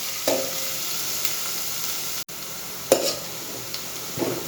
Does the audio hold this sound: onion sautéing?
yes